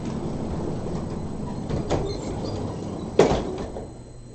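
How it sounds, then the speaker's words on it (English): Doors slam inside a building, softer thuds early on and one sharp, loud bang near the end over a low background rumble. "You'll hear doors slam."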